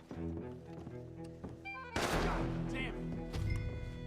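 Gunfire in Red Dead Redemption 2, with a few quiet thuds and game sounds giving way to a sudden loud burst of shots that carries on as a dense, sustained volley.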